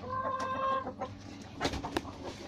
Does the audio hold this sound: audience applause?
no